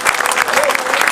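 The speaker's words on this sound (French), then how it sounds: "on peut les applaudir bien fort" An event audience gives a short, loud burst of dense clapping, hands rattling close and continuous.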